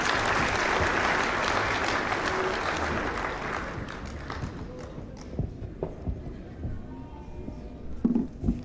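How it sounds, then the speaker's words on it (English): An audience applauds after a speech, with dense clapping at first that thins into scattered claps and faint crowd noise, plus a few louder knocks near the end. "Give him another round of applause,"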